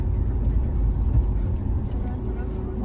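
A vehicle labours up a road in the Sahyadri hills, its low engine drone steady and close, with some faint higher noise above it.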